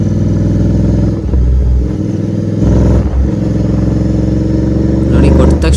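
A Royal Enfield GT 650 motorcycle fitted with a performance air filter rumbles loudly and close, its engine surging under throttle, while someone talks over it throughout.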